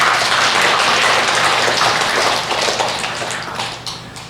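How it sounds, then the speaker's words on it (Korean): Church congregation applauding a hallelujah choir, dense clapping that fills the room at first and then gradually fades. "우리 할렐루야 성가를 위해서 우리 박수로 한번 격려하겠습니다."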